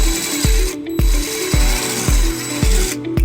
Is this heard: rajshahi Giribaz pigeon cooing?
no